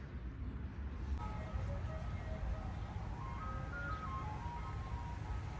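Faint, tinkling ice cream truck melody drifts from a distance over a steady low rumble of outdoor noise.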